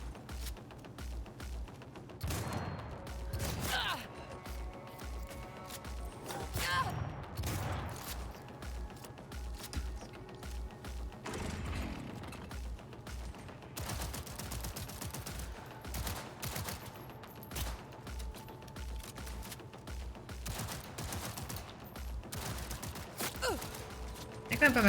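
Gunfire from a weapon in Cyberpunk 2077 rattles through a long stretch of game action, with bursts of rapid shots and scattered single reports mixed with mechanical clanks, a gasp or sigh, and a voice speaking now and then.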